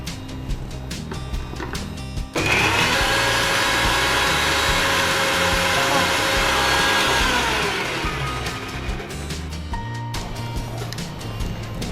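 A kitchen mixer grinder whirs loudly for several seconds, grinding a paste of spinach, ginger and green chilli for spinach chapati dough, its steady motor roar starting abruptly and then winding down.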